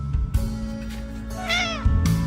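A cat meows once nearby, a clear rising-then-falling call over a low indoor hum, with a couple of soft bumps before and after.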